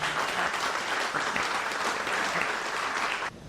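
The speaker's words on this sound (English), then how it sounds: "Please join me in a round of applause." Dense audience applause fills the room for a few seconds, then cuts off abruptly near the end.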